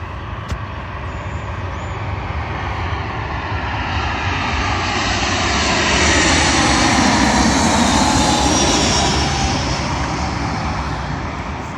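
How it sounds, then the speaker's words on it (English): A British Airways Airbus A319 jet from Vienna arrives on runway 27L at London Heathrow, a loud sustained roar with broad hiss that grows steadily and peaks past the midpoint as it passes nearby, no one talking. "Arriving in now is a British Airways A319, working a service from Vienna to London Heathrow"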